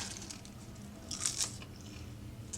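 Crisp bites into crunchy garden kale chips, a few close crackling crunches in quick succession, fairly quiet with no talking.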